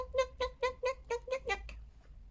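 A pet cat gives a run of about seven short, close meows in quick rhythmic succession, fading off at the end in a quiet indoor setting.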